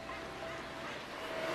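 A dense chorus of northern gannets calls at once, harsh overlapping squawks from a large colony blending into a steady wall of noise.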